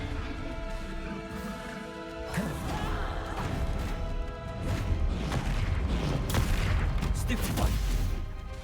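Fiery Confringo blast spells going off in Hogwarts Legacy combat: a run of loud crashing bursts and booms layered over busy battle noise, with a voice heard in the mix.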